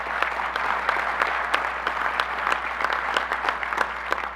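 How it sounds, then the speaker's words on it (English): Applause from a crowd at an annual business meeting, a dense, continuous patter of many hands with a few sharper claps standing out. It holds steady at moderate loudness, with a low hum beneath and no speech. "I think we should give her another round of applause for her hard work"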